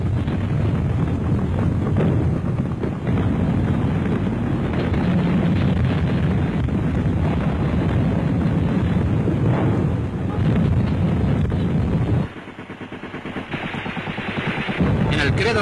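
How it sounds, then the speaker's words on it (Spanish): Continuous loud rumbling blasts and crackling bangs follow one another, dense and overlapping, then the roar drops suddenly before building again near the end. "Se suceden las explosiones."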